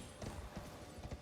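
Horse hooves galloping in the Elden Ring video game, a rapid rhythmic clip-clop of heavy hoofbeats, close but fairly quiet, with no talk.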